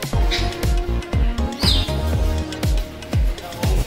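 Birds chirp and tweet in a clean zoo aviary, their calls loud and close and repeated in quick bursts, with a steady run of sharp knocking or tapping beneath them.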